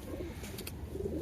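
Several pigeons coo softly in a loft full of birds, low murmuring calls overlapping steadily through a noisy, close background.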